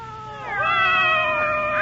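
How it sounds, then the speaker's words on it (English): A cat gives a long drawn-out meow that swells and wavers into a caterwaul-like wail, fairly close and alone with a faint room hiss behind it. "How many cats do you have here, miss?"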